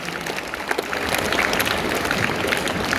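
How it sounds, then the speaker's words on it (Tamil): Audience applause at a school birthday celebration for Kamarajar, a dense burst of clapping from a crowd that swells and holds steady, with no talking over it. "3 பேருக்கும் ஒரே கைத்தட்டலால் நம்ம வாழ்த்துக்களை சொல்லுவோம்"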